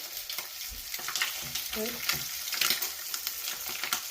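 Something frying in a pan for egg masala curry gives a soft, steady sizzle with scattered stirring scrapes and faint background speech.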